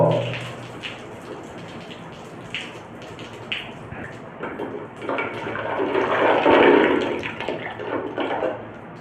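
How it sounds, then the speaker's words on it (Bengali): Water spurts from holes in a water-filled container in a science experiment on water pressure: a steady splashing, gushing wash that swells louder midway, with soft drips and no talking. "দেখো চারদিকে সমান বেগে জল বার হচ্ছে"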